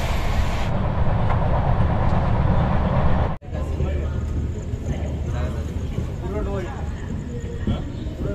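Panvel-Nanded Express train (17613) running, a steady loud rumble and rattle of the moving rail coach throughout, briefly cut near the start, with voices talking faintly under the noise.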